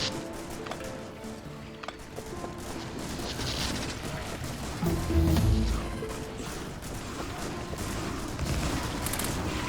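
Rapid gunfire from defensive turrets shooting at biters in Factorio, dense continuous rattling bursts with scattered crashes and booms layered over steady game mechanical noise throughout.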